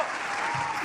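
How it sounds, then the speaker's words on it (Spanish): A brief burst of audience applause at a live show, dense and steady through its short span. "Igual fuerte el aplauso"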